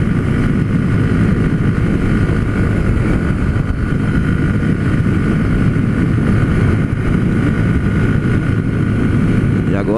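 A Haojue DK 160 motorcycle engine runs under way, a loud, steady droning hum mixed with wind rush, with a voice talking over it throughout.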